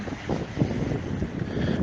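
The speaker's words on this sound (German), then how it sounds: "bitte entschuldige, es ist jetzt extrem windig gerade" Strong wind blows outdoors and buffets the microphone in a continuous loud, rumbling roar that lasts the whole stretch, with no voices heard.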